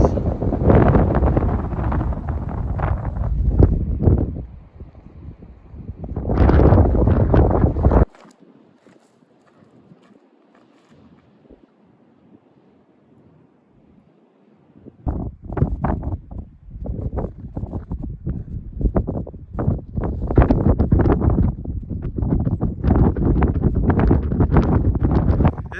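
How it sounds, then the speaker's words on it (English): Strong wind at a clifftop campsite buffeting the microphone in loud, rumbling gusts, dropping to near quiet midway before roaring back in heavy bursts. "And it's still windy, of course."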